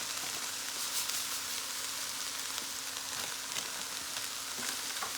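Cook-up rice being mixed with seasoning in a pot, a soft steady sizzle with faint intermittent stirring scrapes, fairly quiet.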